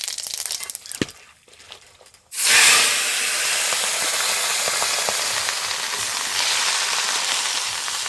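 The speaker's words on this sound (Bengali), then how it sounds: "আমি জিরে আর শুকনো লঙ্কা ফোড়ন দিয়ে করছি।" Whole cumin seeds and dried red chillies hit hot oil in a wok with a sudden loud, steady sizzle that holds at full strength. A brief quiet stretch with a single sharp tap comes before it, and no one speaks.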